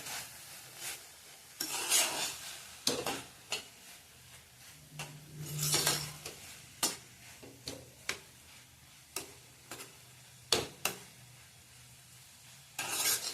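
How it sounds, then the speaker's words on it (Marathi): Peanut powder is stirred into radish bhaji in a pan, producing quiet, irregular spatula taps and scrapes against the metal, with a few brief bursts of sizzle between them. "आपण यात शेंगदाण्याचं कूट घालून घ्यायचं चांगलं मिक्स करून घ्यायचं"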